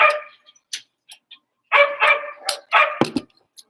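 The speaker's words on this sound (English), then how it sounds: "husky dogs that are always barking" The neighbor's husky dogs bark and yip in bursts, several sharp barks close together with short silent gaps, loud and fairly near.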